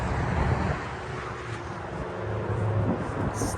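Gusty wind buffeting the microphone outdoors at a farm, producing a loud, uneven low roar that swells and dips, with a faint wash of traffic noise underneath.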